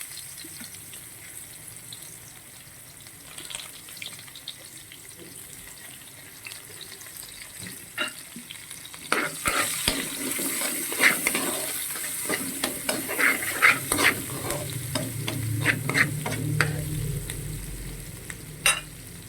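Ginger, garlic and onion sauté in leftover fish-frying oil, with a quiet start building to loud crackling sizzle and sharp pops, stirring scrapes and clatter through the second half.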